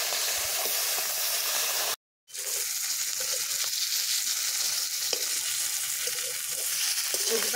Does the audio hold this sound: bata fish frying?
yes